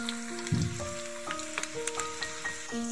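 A masala egg fries in a pan with curry leaves, a steady sizzle running throughout with a few brief crackles and pops, close and moderately loud.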